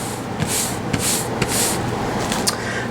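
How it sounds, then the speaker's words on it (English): Spray adhesive being misted onto a layer of cutaway embroidery stabilizer in short, close hissing bursts, several quick sprays in a row with no talking. "again with spray adhesive."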